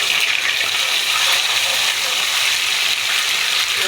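Ginger paste and onions fry in a pan for a mutton and potato curry, giving a continuous close sizzle and bubbling hiss that stays even and fairly loud, with no talking.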